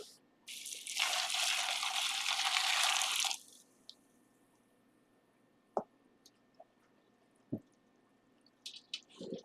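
Hot water pours onto dusty sawdust mixed with gypsum for oyster mushroom substrate, a loud steady gushing splash lasting about three seconds, then a few faint drips, squishes and small clicks in a quiet room.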